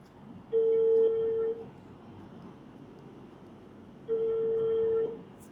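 A phone ringback tone sounds twice, each a steady one-second buzz separated by a long pause, with no one answering.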